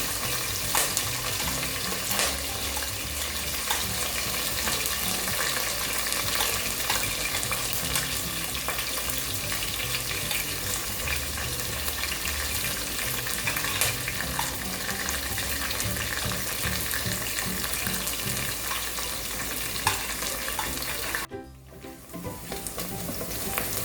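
Onions and curry leaves sauté in a pan for a spicy Tamil chicken gravy, giving a loud, steady sizzle with stirring scrapes throughout and a brief dip near the end.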